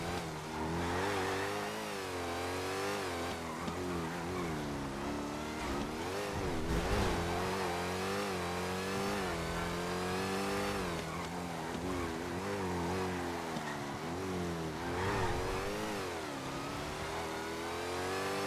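A car engine in a racing video game revs and shifts continuously, rising and falling through the gears at steady, fairly loud volume, with no speech over it.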